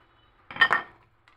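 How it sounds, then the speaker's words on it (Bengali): Cut potatoes tipped into beef in a cooking pot and stirred, giving a short burst of metallic clinks and scraping from a spoon against the pot, close and fairly loud, then quiet. "কেটে রাখা আলুগুলো আমি দিয়ে দিচ্ছি।"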